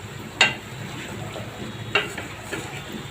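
Fish being stirred in spice paste in a pan on the stove, with a soft background sizzle and a few sharp scraping clicks of the spoon against the pan, no voices.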